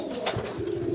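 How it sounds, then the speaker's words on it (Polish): Breeding pigeons in a loft aviary give a soft, low cooing call, heard close and alone over a quiet background. "Tu są wszystkie gołębie rozpłodowe, 20 pali tu jest w sumie na tym gołębniku."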